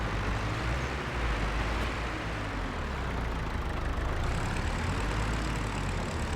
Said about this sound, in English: How many horsepower is that tractor?